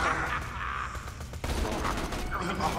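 Borderlands 2 gunfire, a rapid run of shots crackling over a steady din of game action, with a player's voice talking over it.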